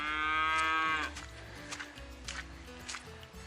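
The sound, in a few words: cows mooing at high altitude in Peru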